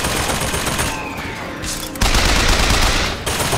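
A machine gun firing in BioShock Infinite, bursts of rapid shots that stop briefly and then return louder and closer, with no speech over them.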